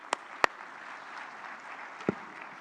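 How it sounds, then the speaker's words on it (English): Audience in a New Delhi hall applauding at an India–US Pax Silica declaration event, a soft, distant, steady patter of clapping with a few sharp close knocks near the start and end. "So a round of applause to him."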